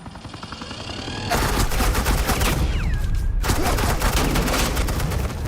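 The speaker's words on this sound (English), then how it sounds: "suppressing fire" Sustained suppressing gunfire from Agent Quinn's weapon in the video game Batman: The Enemy Within, a dense, rapid automatic fusillade that bursts in loudly after a quieter opening and keeps rattling, with a brief electronic whine partway through.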